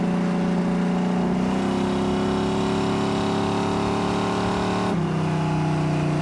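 A 1971 Chevrolet Chevelle SS with a big block V8 and Holley Sniper fuel injection runs steadily up close, its deep loud rumble dipping briefly before climbing and settling again.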